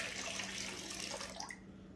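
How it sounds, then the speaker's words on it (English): Water is tipped out of a gold prospecting pan loaded with Lynx Creek paydirt, a soft, continuous splash and trickle that thins out after about a second and a half, faint and close. "we'll dump off a little bit of this water."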